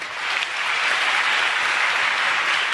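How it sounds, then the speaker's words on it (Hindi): A crowd at a gathering with a guru claps in a sustained, dense burst that builds quickly and then holds steady and fairly loud. "गुरुजी ताली बजाइए।"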